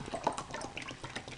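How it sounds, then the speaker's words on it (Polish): Water poured into a glass during a preschool egg-floating experiment with salt, a brief, soft splashing and trickling close by, quiet and uneven. "Dolej jeszcze wody"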